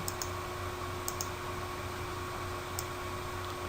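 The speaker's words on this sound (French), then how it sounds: "Donc je clique sur le point d'ancrage" Computer mouse clicks while placing an anchor point in editing software, a few faint sharp clicks in pairs over steady background hiss.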